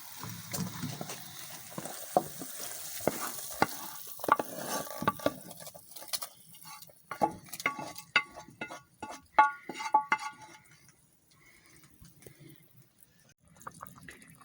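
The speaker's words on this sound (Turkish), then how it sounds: "Salçamızla soğanımız 5 dakika kadar kaynadı. Şimdi fasulyemizin içerisine döküyoruz." A tomato paste and onion mixture is poured into beans cooking over a wood fire, with close clattering stirs, wet splashes and scattered knocks, fading to quiet at the end.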